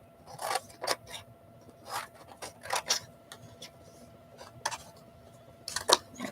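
Scissors snip a word out of a magazine page in a quiet room, a series of crisp, close cutting clicks and paper rustles arriving in irregular bursts with short pauses between.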